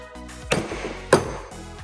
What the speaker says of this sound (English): we use our rubber mallet to actually drive the spindle out